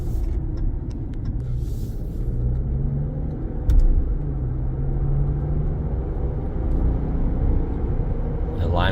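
A 2025 RAM 1500 Laramie pickup with about 8,700 miles drives steadily, its low engine and road rumble continuous throughout with smooth gear changes blending in and a brief thump partway through.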